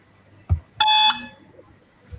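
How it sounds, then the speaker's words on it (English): At a live inter-school insurance quiz finale, a contestant's buzzer sounds in a single bright electronic tone about half a second long, loud and clear after a brief click. "Let's see who has buzzed."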